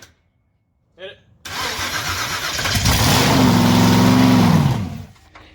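A 1000 HP blown small-block Chevy front-engine dragster cranks briefly, then fires and roars loud and close, holding a rising, rough rev for several seconds before dropping off; a voice speaks around it.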